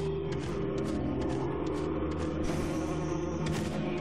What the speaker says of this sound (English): I can still hear that wasp. Just buzzing away.